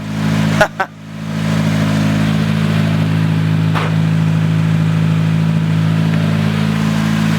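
A car engine, a Jeep or Honda CRX under diagnosis, gives a brief rev and then idles steadily and close for several seconds, with a short knock near the start.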